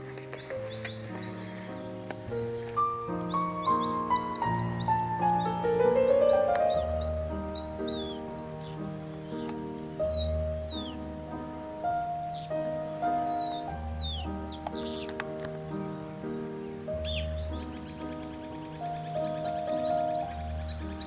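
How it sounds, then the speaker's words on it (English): Birds sing in a Colombian cloud forest páramo, with many high chirps, trills and whistles layered over a sustained low musical backdrop, varied and continuous throughout. "As for birds, you can see and listen to a great variety of them, especially in the morning hours."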